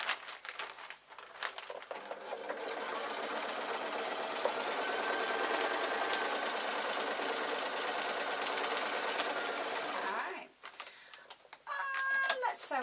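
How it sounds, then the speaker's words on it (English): A domestic sewing machine stitches binding onto a fabric hanging shoe rack in one long steady whirring run of several seconds, preceded and followed by brief starts and handling noise, with a bird clucking faintly nearby. "Sew on the binding as well"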